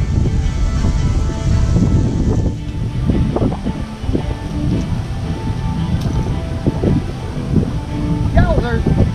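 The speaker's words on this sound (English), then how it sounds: "I just want to show y'all the wind. See how it's blowing?" Strong wind buffets the microphone at a winery and vineyard campsite, a constant loud roar with gusts, while people talk over it.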